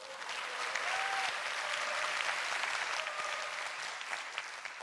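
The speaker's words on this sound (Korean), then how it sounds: "박수." An audience at a Korean lecture talk gives a steady round of applause, moderately near, filling the whole stretch without a pause.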